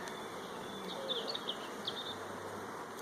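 Honeybees hum softly and steadily around an open hive during colony work, a continuous faint buzz with a few brief, slightly louder passes near the microphone.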